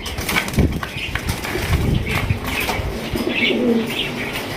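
Soft cooing from a pair of large Indian Bombay pigeons repeats over a busy background, with occasional wing flutters and faint chirps nearby.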